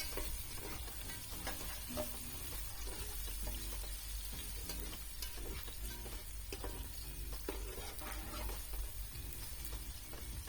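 Keema with garlic and ginger paste stirred with a spoon in a pan, a constant dense frying sizzle with scattered scrapes, faint and steady throughout, no voices.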